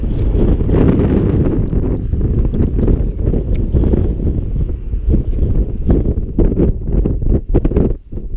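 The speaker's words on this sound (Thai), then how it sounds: "ความเร็วลมตอนนี้ขึ้นไปที่ 65 ถึง 70 แล้วนะฮะ" Strong wind in snowy Abashiri, Japan, buffets the microphone in a constant heavy roar, gusting and rumbling throughout with no voices.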